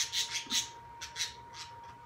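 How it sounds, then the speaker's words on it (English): Birds chirp nearby indoors-adjacent in a series of short, scratchy, bright squawks that come in uneven clusters, loud at first and easing off, with no talk over them. "if I don't lose my mind with these chirping birds"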